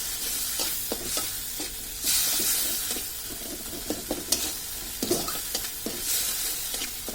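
Egg roti noodles with tomato ketchup are stirred in a hot pan, a steady sizzle under repeated scraping and clinking strokes of the spatula, close and continuous.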